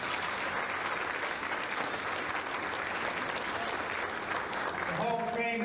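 Steady audience applause filling a hall at a high school athletic hall of fame ceremony, dense and continuous clapping throughout, with a voice beginning to speak over it at the very end.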